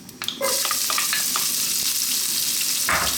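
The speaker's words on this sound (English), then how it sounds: "We're now going to drop in our onion" Chopped onion dropped into hot oil for Indian vegetable fried rice bursts into a loud, steady sizzle that holds close and bright, with a few stirring clatters at the start and again near the end, no voices.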